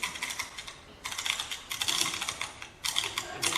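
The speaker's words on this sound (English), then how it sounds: "Shake the dice." Dice rattle as they are shaken during a stage magic performance, a dry clicking clatter that comes in several bursts with short pauses, fairly close and with no voices.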